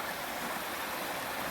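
Quinapoxet River water rushes over rocks in a steady, close, broadband wash, constant and unbroken with no voices on top.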